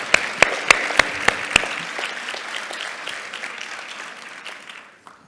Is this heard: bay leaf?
no